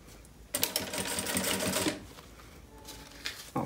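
A sewing machine stitches a zipper and lining onto a fabric pencil case, its rapid mechanical whirring running steadily close by for over a second, then a pause and a few short bursts of stitching.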